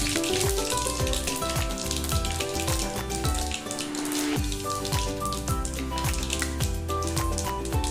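Mustard seeds tempering in hot oil, a dense continuous sizzle with rapid crackling pops throughout, close and steady with no talking.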